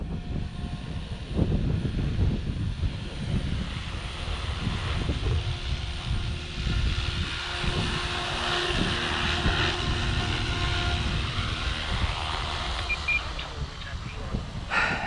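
An OMPHOBBY M4 MAX model helicopter's engine whines and buzzes steadily through gusty wind noise as it comes in to land.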